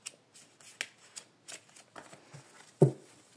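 A deck of oracle cards is handled and shuffled close up, with light irregular flicks and rustles and one louder snap near the end.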